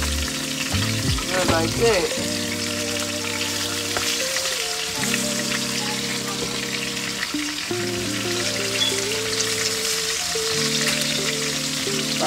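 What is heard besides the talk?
stir frying meat for birria tacos in pan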